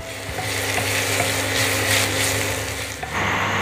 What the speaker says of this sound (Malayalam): ഇനി നമുക്ക് നന്നായിട്ടൊന്ന് ഇങ്ങനെ മിക്സ് ചെയ്ത് ഇളക്കി കൊടുക്കാം അപ്പോൾ ഇത് നന്നായിട്ടൊന്ന് വഴറ്റിയെടുക്കണം